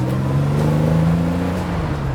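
A 1987 Porsche 911 Targa engine idles and revs close by, a steady low drone that swells slightly and eases off, heard alone without voices.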